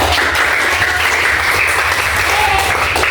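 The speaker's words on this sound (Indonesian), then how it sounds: "Tepuk tangan dong." Classroom students give a loud, continuous round of applause for a student group, a dense wash of clapping from a crowd with some voices mixed in.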